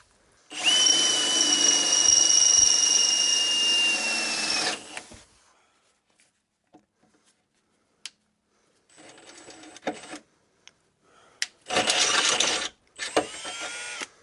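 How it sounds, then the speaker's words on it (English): A power drill whirs loudly for several seconds drilling a hole for a car's chassis-mounted splitter, stops, then follows with a few short bursts of drilling separated by pauses and small clicks. "I'll just have to drill a hole in a different spot."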